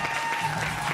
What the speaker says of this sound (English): Make a big round of applause for Miss Aja.